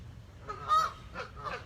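Geese honking near a garden in spring, several nasal calls in quick succession over low background noise with no talk.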